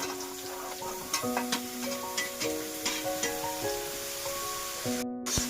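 Eggplant fries in oil with black cumin, a soft steady sizzle broken by repeated light taps and scrapes of stirring, with a faint tone running underneath.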